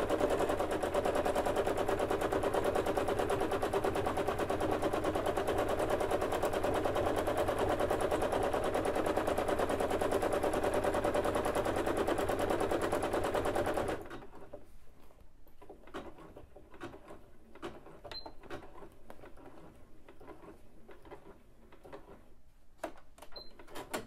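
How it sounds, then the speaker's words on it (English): A sewing machine free-motion stitches embellishments on a pants leg using its open arm, running in a fast continuous rattling whir for about fourteen seconds, then stopping, followed by scattered soft clicks and handling sounds. "that is how I sew my pants legs using the open bed of my sewing machine"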